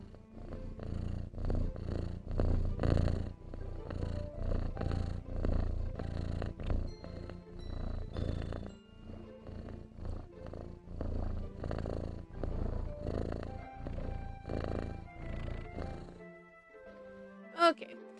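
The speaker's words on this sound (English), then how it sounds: "Do you guys want to say hi to my cat?" A domestic cat purrs close by in a steady low rumble that continues for most of the stretch before fading near the end, with a brief sharp noise at the close.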